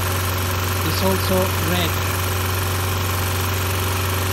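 A Mini Cooper R50 with a misfire fault idles with a steady low hum and faint vibration throughout. Someone speaks briefly over the engine.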